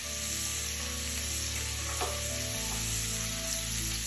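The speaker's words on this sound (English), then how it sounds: "Now we're gonna add butter in it to make it even better" Butter sizzling in hot sausage oil with onion in a pan for Cajun garlic shrimp pasta, a steady close crackling fry with a low hum underneath.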